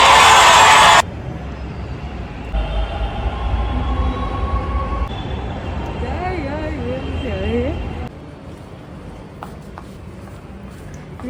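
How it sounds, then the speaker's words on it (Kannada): A loud rumbling burst opens, then a steady hum of a train at a platform with rising and falling electric whines, people talking nearby. "ನಾನಿವಾಗ ಆಲ್ರೆಡಿ ಮೆಟ್ರೋ ಸ್ಟೇಷನಲ್ಲಿದ್ದೀನಿ"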